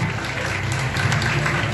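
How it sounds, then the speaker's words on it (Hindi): An audience at a Chhattisgarhi film award ceremony applauds in a dense, continuous wash of clapping over low background music. "ताली बजा देंगे थोड़ा"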